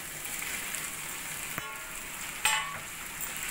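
Fried pointed gourd pieces dropped into a pan of potato masala, giving a steady close sizzle with a sharp burst of frying as they land, plus a light stir.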